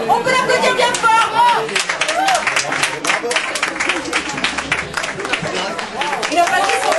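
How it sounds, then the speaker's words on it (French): Applause from an audience at a Mister Cuba pageant night at Compagnie Café, with dense clapping and crowd noise filling the whole stretch at steady, fairly loud level. "On peut l'applaudir bien fort."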